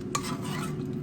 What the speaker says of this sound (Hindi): पीछे जो आवाज़ आ रही है वो इसकी आ रही थी, क्योंकि मैंने अबीर के लिए गार्लिक ब्रेड भी